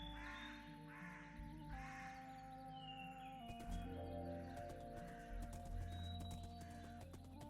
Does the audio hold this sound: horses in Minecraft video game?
yes